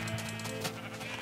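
A sheep in the video game Minecraft gives a single drawn-out bleat, close and fairly clear, with no talking over it.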